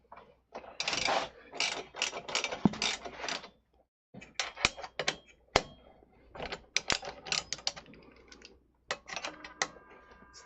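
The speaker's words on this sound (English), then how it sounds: "So I got a wrench here" Ratcheting wrench loosening bolts on a Ninja 250 motorcycle being stripped for paint, giving bursts of quick, close clicking in several separate runs with short pauses between them, no talking.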